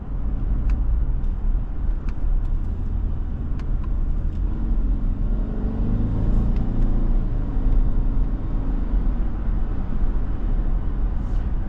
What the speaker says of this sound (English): the turbo engine just gets this vehicle up and moving quickly